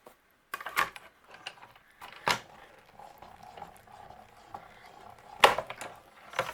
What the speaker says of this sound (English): Now what we're going to do is run this through our die cutting machine.